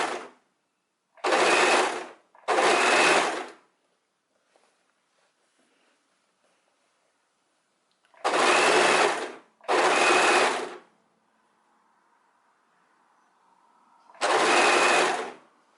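A sewing machine stitches the seams of a fabric scarf top in five loud, close bursts of one to two seconds each, separated by quiet pauses with faint background hum.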